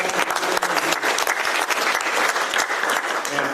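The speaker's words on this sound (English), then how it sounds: "I think we ought to give them all a round of applause" Steady applause from an indoor audience at a Shelby County public meeting honoring the United States Marine Corps on its birthday, dense clapping sustained throughout at an even level with no pauses.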